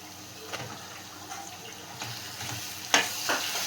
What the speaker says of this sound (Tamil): வெங்காயம் நல்லா வதங்கிடுச்சு அடுத்தது நம்ம தக்காளி போட்டுக்கலாம்